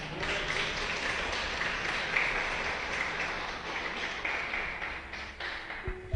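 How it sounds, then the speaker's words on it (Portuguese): A church congregation claps for the Lord during a Portuguese-language sermon, a soft, diffuse patter of hands that sounds fairly distant and holds steady before tapering off at the end. "Dê um aplauso para o Senhor"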